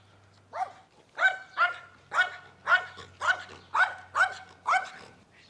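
A Rottweiler barks about nine times in a steady, evenly spaced series of loud, deep woofs, close to the microphone, in an otherwise quiet setting during a training session.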